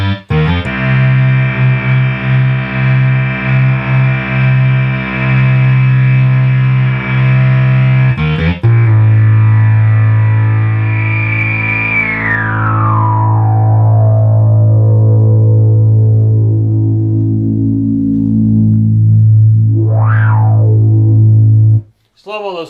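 Minimoog synthesizer oscillators droning through an open filter on a serviced unit, a loud buzzy sustained tone that shifts pitch, with harmonics sweeping downward and a brief rising-falling swoop near the end.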